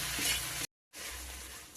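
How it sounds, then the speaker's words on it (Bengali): Dense sizzling of okra frying in a pan, close and steady, broken by a brief moment of silence before the frying resumes. "ভেন্ডিটা ভাজে নেব।"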